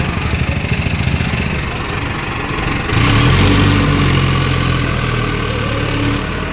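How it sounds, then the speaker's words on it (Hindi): A tractor engine idles steadily with a low, chugging pulse, then swells louder and fuller partway through as it revs up, close and running alone. "चलते हैं गाइस ट्रैक्टर लेकर हम।"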